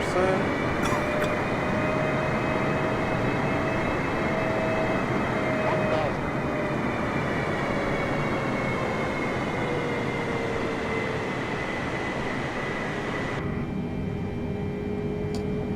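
Engine drone of a Boeing 747 in Microsoft Flight Simulator on approach to land, a loud steady roar with a whining tone that slowly glides in pitch, continuous and close, with radio-style voices over it.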